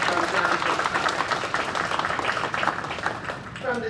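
A crowd applauds visiting guests at a Pine Bluff city council meeting, a dense, sustained patter of clapping across the room with voices mixed in underneath.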